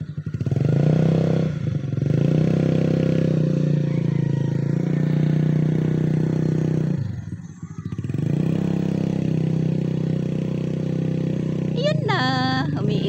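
A freshly washed motorcycle is ridden into a muddy grass field, its engine droning loudly and steadily with a brief dip and surges of revving as the wheel slips, while voices talk throughout.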